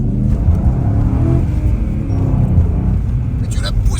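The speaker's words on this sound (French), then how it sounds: "Ça fait le son des RS4 B7." Car engine revving with a deep, throaty rumble resembling an Audi RS4 B7, loud and continuous with people talking over it.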